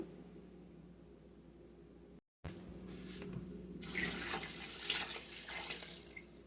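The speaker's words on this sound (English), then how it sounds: "I've got to get a 1/2 gallon of water" Half a gallon of water pours into a pot of vegetable kitchen scraps for broth, a steady faint trickle that swells into a louder, splashier flow after a brief cut.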